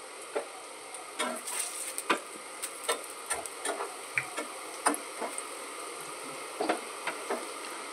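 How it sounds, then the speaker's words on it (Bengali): Vegetable koftas deep frying in hot oil, a soft bubbling sizzle broken by frequent light clicks and taps of a utensil, close and without talk. "এইভাবে কোপ্তাগুলো ভেজে নিচ্ছি, লাল লাল করে ভেজে নিচ্ছি।"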